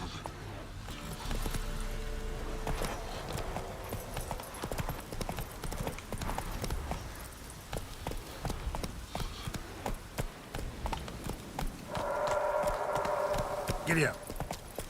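A horse gallops in The Witcher 3 video game, its rapid rhythmic hoofbeats loud and continuous, with a brief whinny and rattling tack near the end.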